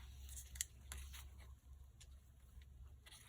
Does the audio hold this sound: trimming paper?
yes